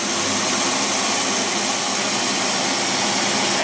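A carbureted engine running with its air cleaner top off holds a steady, loud, broadband roar and hiss throughout, close to the microphone with no clear breaks or voices.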